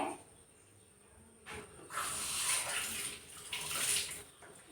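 Onions are rinsed in a stream of running tap water, a hissing splash that starts after a quiet pause and rises and falls in two loud bursts, close by with no talking.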